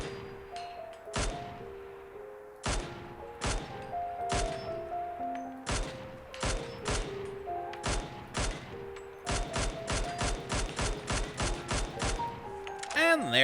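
A video game rifle firing 5.56 rounds cracks out in close single shots and quick bursts, sharp repeated reports spread irregularly through the clip, ending with a brief reload-like rattle.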